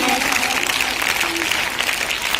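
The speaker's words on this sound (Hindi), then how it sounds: "इन सभी बच्चों के लिए भी जोरदार तालियां लगाएंगे आप सभी" Loud, continuous clapping from a crowd greets schoolchildren at an award ceremony at a school, a dense wash of applause with a voice briefly audible over it.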